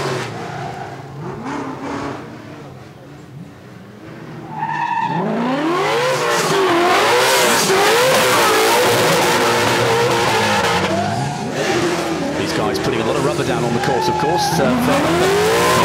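A Ford Mustang RTR drifts at the Goodwood Festival of Speed, its engine revving hard with long wavering tire squeals, loud and close, while a commentator talks over it.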